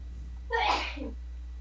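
A single close sneeze bursts out sharply over a steady low hum in a classroom setting, fading quickly into quiet.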